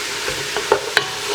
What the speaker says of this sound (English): now we're going to give that a stir